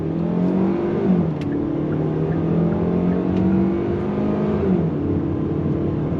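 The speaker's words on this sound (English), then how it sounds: "you got nice shifts from that 8-speed automatic transmission" A 2025 Kia K5 GT-Line sedan engine accelerating steadily, its pitch climbing then dropping at each smooth 8-speed automatic gear change, heard from inside the cabin.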